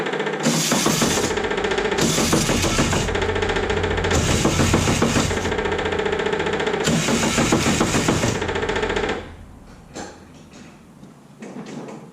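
Starter cranking a 1972 VW Bus engine as it turns over, a loud rhythmic churning that runs steadily for about nine seconds, then cuts off, leaving faint clicks and rustling.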